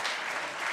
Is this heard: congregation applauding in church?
yes